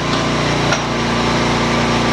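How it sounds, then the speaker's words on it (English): A corded electric drill whines loudly and continuously while removing the wooden decking from a trailer, a steady high-pitched motor drone up close with a slight pitch shift partway through and no talking. "We're having to use the corded drill just because it kills the battery operated one"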